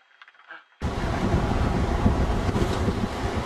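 Seawind 24 sailboat under sail in a 10 to 15 knot breeze at about 6 knots, heavy wind buffeting and rushing water noise starting abruptly after a brief quieter moment, loud and continuous.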